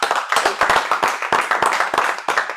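Applause from an audience at an awards ceremony for the Langon racecourse: a few people clapping loudly and unevenly in close bursts, with short pauses between the bursts.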